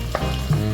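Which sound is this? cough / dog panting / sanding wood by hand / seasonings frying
seasonings frying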